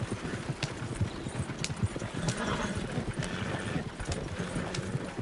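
Horse hooves clip-clop steadily in a Western video game set around Valentine, a dense run of hoofbeats throughout with an occasional whinny, heard alone without talk.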